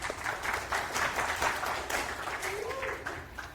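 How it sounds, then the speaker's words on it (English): A conference audience applauds a speaker taking the stage, a dense steady wash of clapping throughout with some voices mixed in. "Give a very warm welcome applause."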